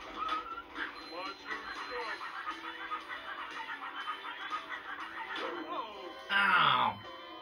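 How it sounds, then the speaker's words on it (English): Dogs accompanying spinning enemies in the SpongeBob SquarePants Movie video game, heard as a busy stretch of small barks, yips and whimpers mixed with game effects and music, ending in a louder burst near the end. "So the spinners have dogs with them, and it causes them to spin around."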